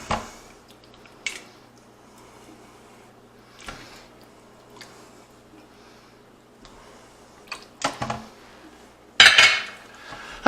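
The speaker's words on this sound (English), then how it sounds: "I'm going to give this a stir." Sour cream being stirred into beef stroganoff in an Instant Pot, with a spoon scraping and clinking against the metal pot in scattered bursts, louder near the end.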